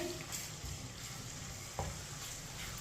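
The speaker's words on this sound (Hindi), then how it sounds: "अदरक और लहसुन को मिक्स कर लेंगे" Ginger and garlic stirred in a pan over a medium flame while cooking Chinese rice, a steady close sizzle with scraping stir strokes and one sharper clink near the end, no voices.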